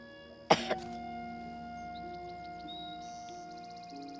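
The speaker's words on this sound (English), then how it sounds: "Even bigger cough." A single sharp cough bursts out near the start, followed by a quieter catch, then faint tones and soft electronic beeps play on in a quiet room.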